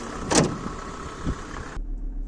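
Hood of a Mercedes-Benz C 250 Turbodiesel W202 being lowered and shut, a single solid thump followed by a couple of smaller knocks, then quiet with a low rumble.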